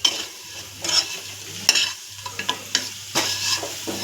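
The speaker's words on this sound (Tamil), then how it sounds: "அந்த மசாலாவை போட்டு நம்ம அப்படியே ஒரு பெரட்டி விட்டுக்க வேண்டியதுதான்." Masala stirred into elephant foot yam frying in a pan: a constant sizzle with repeated scraping stirs and short clanks of the spoon against the pan, close and fairly loud.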